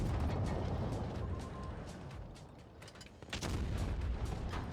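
Heavy tank cannon blasts and rumbling engine noise from World of Tanks Blitz, with deep booming bursts at the start and again near the end.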